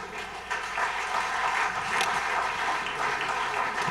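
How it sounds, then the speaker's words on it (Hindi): Audience clapping at a ghazal night concert, a dense, even wash of many hands applauding steadily throughout with no voices over it. "एक बार फिर तालियां बनती हैं।"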